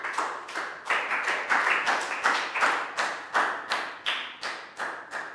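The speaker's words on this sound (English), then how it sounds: "a round of applause for everyone" A steady round of clapping from a small group in a Year 3 maths lesson, about a dozen sharp bursts in even rhythm, close and fairly loud with no talking.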